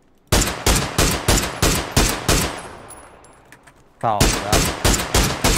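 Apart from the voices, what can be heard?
gunfire in a video game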